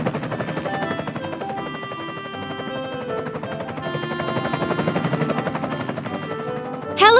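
Cartoon helicopter flying overhead, heard as a steady whirring drone under a bed of bright music that runs the whole time, with a sudden louder swell right at the end.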